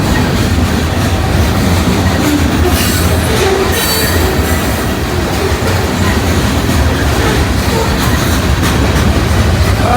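A train passes close and loud, a steady roar of rolling rail cars with wheel squeal and clatter throughout, no break in the noise.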